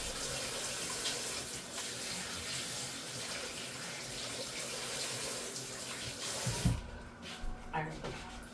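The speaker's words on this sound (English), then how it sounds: "I'm gonna wash my hands real quick" Hands being washed under a running kitchen tap, a steady close rush of water that goes on for most of the time and then stops abruptly, followed by faint handling noises.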